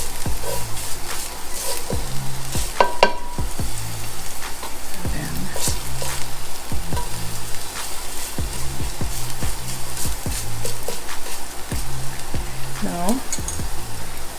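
Food fries and browns in a hot pan with a constant loud sizzle, broken by recurring scrapes and clinks of stirring. A voice speaks a single short word partway through.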